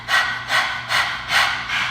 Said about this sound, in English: stick your tongue out, begin panting like a dog